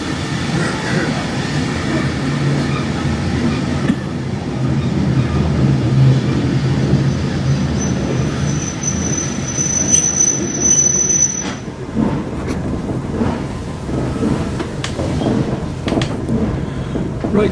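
A heritage steam railway train on the Keighley & Worth Valley Railway at its spring steam gala, running steadily with a loud continuous rumble and a high wheel squeal rising midway, heard close with no talking.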